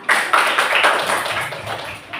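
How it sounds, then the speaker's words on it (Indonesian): A classroom audience of pupils and a teacher applauds after a student's demonstration, a dense, steady patter of hand claps lasting the whole moment, fairly close and loud with no talk over it. "Beri tepuk tangan."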